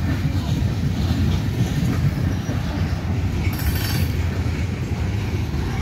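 A freight train hauling Canadian National cars rolls past on the tracks, a steady loud low rumble that continues unbroken, with faint metallic clinks over the top.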